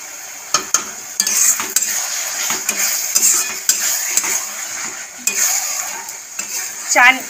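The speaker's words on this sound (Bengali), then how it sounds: "তাই জন্য সবসময় চিনি দিয়ে এরকম বারবার অনেকক্ষণ ধরে নাড়াতে হবে" Bengali-style tomato and date chutney cooked down with melted sugar in a pan: repeated spoon scrapes and metallic taps against the pan over a soft sizzle, close and steady, with no talk.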